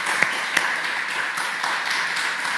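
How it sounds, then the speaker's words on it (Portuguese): An audience at a masterclass talk applauds a speaker: steady, even clapping with a few sharper claps standing out, sustained at moderate loudness for the whole stretch and with no voices. "Eu peço uma salva de palmas para o Pedro, por favor."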